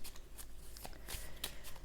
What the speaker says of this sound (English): Now I'll just see how they shuffle.